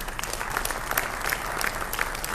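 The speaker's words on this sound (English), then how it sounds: "Ladies and gentlemen, Dr. Rela deserves a round of applause." An audience applauds Dr. Rela with a continuous wash of many hands clapping at moderate loudness and a few sharper individual claps standing out, without voices over it.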